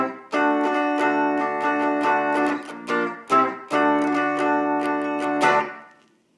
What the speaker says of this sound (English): But if I use this pickup, it sounds like this.